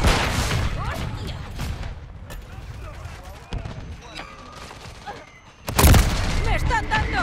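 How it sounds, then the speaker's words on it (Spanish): Hostile mortar attack in Call of Duty Modern Warfare III on the Rust map: a chaotic spread of gunfire and blasts with a heavy, loud explosion near the end, while voices talk over the combat. "Ataque de mortero hostil."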